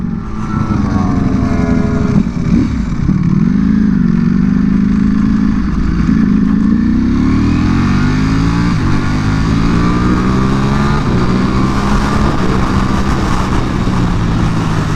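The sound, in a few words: Ducati Panigale V4 R motorcycle engine riding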